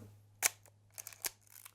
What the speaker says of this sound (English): the louder shutter sound was on the Minolta X700 that Sarah used.